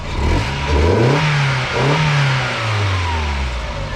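A standard 1.6-litre Mk1 Mazda MX-5 engine close by revs up twice in quick succession, then the pitch drops back toward a steady idle.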